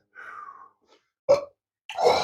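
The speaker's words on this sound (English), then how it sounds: "ooh, lava burp" A burp after tasting hot sauces, one short rumbling belch among brief vocal grunts and breaths, close and fairly loud.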